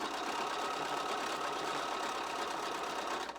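A sewing machine stitching quilt pieces runs in a steady, even whir with no pauses, close by and moderately loud, with no talking.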